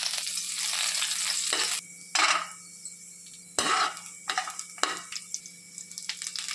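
Green chillies sizzling in hot oil, bursts of loud hissing frying alternating with quieter stretches, punctuated by clinks and scrapes of a spoon stirring in the pan.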